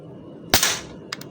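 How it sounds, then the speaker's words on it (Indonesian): A single sharp, close air rifle shot, an AL rifle OD 25 fired at a target 20 meters away, is followed half a second later by two quick faint clicks. "Lanjut tembakan ketiga ya."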